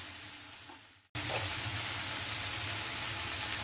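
Shallots sautéing in hot oil in a pan for a Chinthamani chicken dish. A brief cut is followed by a loud, even, continuous sizzle close by, with a few faint stirring touches.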